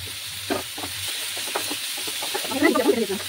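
Brinjal pieces go into a hot pan with onion, green chilli and turmeric, bringing a soft hiss of frying with light scrapes and taps of a spatula, swelling into a brighter crackling sizzle near the end.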